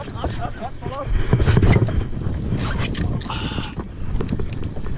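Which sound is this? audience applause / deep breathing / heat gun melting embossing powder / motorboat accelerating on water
motorboat accelerating on water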